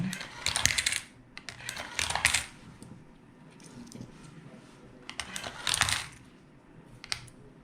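Coins drop one after another into a small handmade toy coin-eating robot, giving several bright metallic clinks and rattles in distinct bursts with quiet mechanical whirring between them, close and clear.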